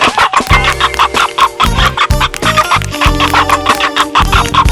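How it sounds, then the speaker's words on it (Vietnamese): A cartoon chicken clucks over and over in rapid, loud bursts, close up and with no talking. "Ở đâu mà xuất hiện một con gà to béo thế này?"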